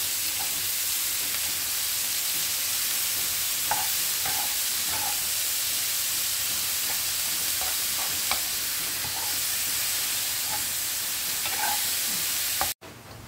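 Alamang shrimp paste frying in a pan with garlic and pork, giving a steady loud sizzle and hiss throughout with occasional light stirring clicks, ending abruptly.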